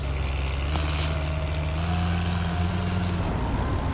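A vehicle engine in Jurassic World Evolution 3 drones at an even pitch, loud and steady, as a game car drives along. A few faint higher tones sound briefly, with no speech.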